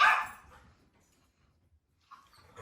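A dog gives a single sharp bark at the start, then quiet follows before a few softer yips or whimpers near the end, indoors with puppies at a dog day camp.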